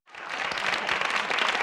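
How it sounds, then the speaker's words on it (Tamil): Audience in a school and college students' Tamil speaking-competition auditorium breaks into applause, a dense sustained clapping that rises quickly and holds steady. "ஒரு அரங்கம் நிறைந்த கைத்தட்டல் கொடுத்துடலாம்."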